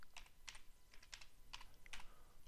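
Fingers type a short search word on a computer keyboard, making a quick run of light, irregular key clicks, close and quiet, with no voices.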